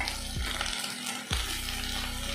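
Potato, beans and carrot frying together in a pan for a Tamil potato bonda filling. A steady, close sizzle runs throughout, broken by two quick clunks of the spoon against the pan, with no voices.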